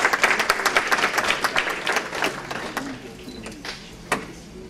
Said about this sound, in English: I would like you to give a round of applause to Kamran Educational Foundation for a wonderful year